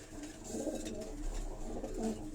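Old Sialkoti pigeons coo softly and repeatedly on a rooftop, a few low rolling calls close by over a faint background hum.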